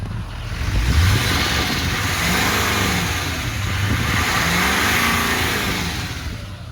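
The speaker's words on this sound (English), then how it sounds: "We'll give it a bit of a rev also and listen to it. Sounds really good. The turbo is spooling up." A 2012 GMC Denali HD pickup engine revs up and settles back, rising in pitch as the turbo spools, a steady close-up rumble with no talking.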